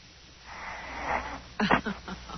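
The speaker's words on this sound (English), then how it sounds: "Listen, you can hear her breathing." A sleeping woman breathes audibly in a studio setting, with a slow, soft wheezing inhale swelling and fading, followed by a brief snort-like burst near the end.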